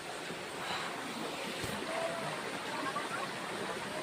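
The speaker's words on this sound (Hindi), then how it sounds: "झरना पानी देखो" Water from a waterfall at a hillside site with steps climbed to reach it, rushing steadily and broadly throughout at a moderate, even level with no break.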